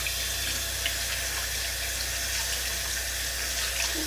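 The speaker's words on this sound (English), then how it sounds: "So I'm gonna try a little bit of warm water." Warm water from a tap runs steadily over a soapy makeup sponge in a sink, a constant close hiss and splash with no pauses.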